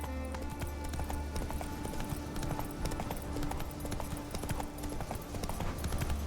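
Horse hooves clip-clop steadily in The Witcher 3 video game, a continuous rhythmic trotting under a dense layer of in-game ambience and music.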